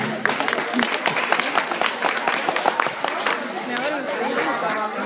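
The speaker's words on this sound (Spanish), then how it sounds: "Recibámoslo con un fuerte aplauso." Audience at a school pageant applauding as a dance teacher is introduced as a judge, scattered clapping mixed with crowd chatter and voices throughout.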